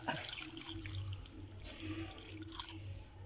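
Coconut milk pours into a cooking pot, a steady liquid splashing and trickling that runs continuously for a few seconds, close and moderately loud, with no talking.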